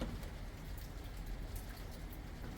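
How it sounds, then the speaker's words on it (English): Steady rain falling outside in an English courtyard on a rainy Sunday, a continuous soft hiss of drops on surfaces, even and unbroken, with no voices. "It is a rainy Sunday here in England"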